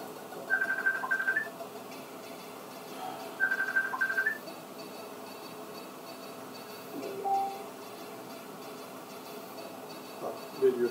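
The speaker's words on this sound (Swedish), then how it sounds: "Nu ringer jag på Facebook" Facebook video call ringing tone on a computer, repeating in two short high electronic trill bursts a few seconds apart, fairly faint against quiet room noise, with a soft knock later and no talking.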